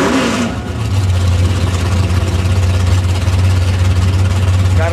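Drag racing car engine idling with a steady low rumble, building into revving near the end, loud and close with faint crowd noise around.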